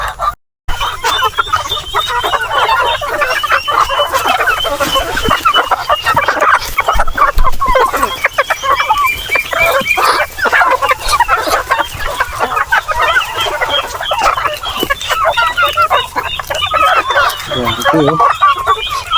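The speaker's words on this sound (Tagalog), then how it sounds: "Subukan natin sa ating mga Muscovy duck at saka native na manok." Native chickens and Muscovy ducks feed on organic feed at a small backyard farm, with steady close clucking and scattered fowl calls running throughout.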